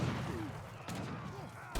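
Sharpshooter musket fire in Age of Empires 3, a few sharp broadband cracks spaced apart amid busy battle noise, with a voice speaking over the fight.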